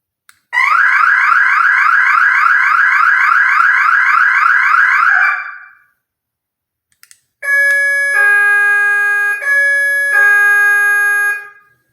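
A home security alarm blares loud and close: a warbling siren for about five seconds, then after a brief pause a steady multi-tone electronic beeping in two bursts, with no talk over it.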